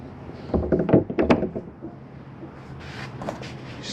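The door of a 2015 Jayco Whitehawk 21FBS camper trailer is handled, with a few close, hollow knocks and clacks as it opens and latches, followed by fainter rustling.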